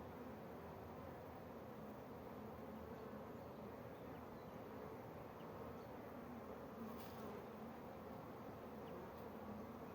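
Bees buzz at a beehive in a steady, faint, continuous drone that never breaks, with no voices over it.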